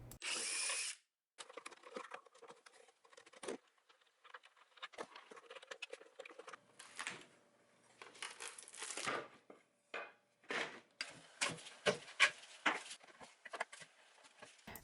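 A power drill works in short bursts, taking apart a small wooden bench, with whirring spurts separated by pauses, wooden clatter and light handling sounds.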